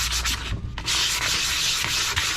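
A surface is sanded by hand with 220 grit 3M sandpaper, giving loud close rasping strokes that repeat in a quick back-and-forth rhythm with a brief pause, and no talking.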